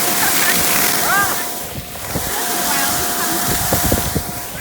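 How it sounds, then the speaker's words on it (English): Ocean surf rolls and wind buffets the microphone outdoors, a steady broadband roar with a few brief voices mixed in. "Ocean."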